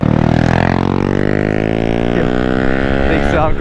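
A Honda Grom motorcycle engine revs loudly up close, its steady buzzing note climbing and falling through the gears, with a voice briefly over it.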